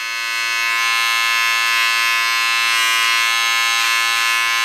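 Electric beard clippers with no guard trim close along a beard line, giving a steady, loud, continuous buzz held throughout with no talking.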